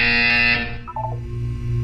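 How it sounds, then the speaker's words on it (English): A buzzer tone from the video game Portal 2 sounds loud and steady for about half a second, then gives way to a softer electronic hum with a few brief tonal blips. "You will hear a buzzer."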